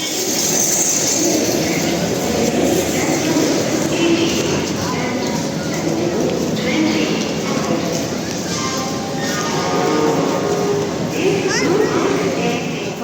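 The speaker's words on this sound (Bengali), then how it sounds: "এই যে দেখো হাওড়া স্টেশনে" Howrah railway station hums with a constant train rumble, the occasional wheel squeal, and people talking nearby.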